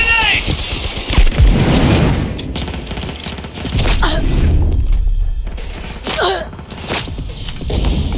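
Gunfire and a grenade explosion in Cyberpunk 2077: a loud, dense firefight with repeated rapid shots, a heavy blast near the start, and crashing impacts throughout, with shouted voices mixed in.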